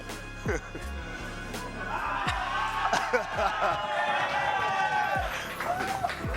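A crowd in a big arena at a Super Smash Bros. tournament cheers and roars, swelling in the middle, while people talk nearby over it and loud thumps punctuate the noise.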